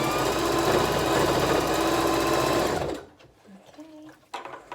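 A sewing machine stitches through folded fabric of a small face mask, running loud, steady and continuous for about three seconds, then stopping abruptly into quieter handling sounds.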